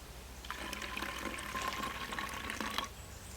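Water pours into a bottle for a homemade vinegar volcano in a steady, fairly quiet trickle lasting a couple of seconds before stopping.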